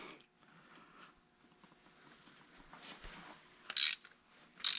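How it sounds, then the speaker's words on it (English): A ratchet wrench clicks steadily while backing compound-coated bolts off the brake assembly of a John Deere 6400 tractor, heard close and alone with a few louder bursts near the end. "you have to ratchet her off of there"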